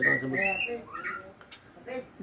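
A white-rumped shama (murai batu) at a breeding farm sings clear, varied whistled phrases in short bursts with pauses between, fairly close and alone.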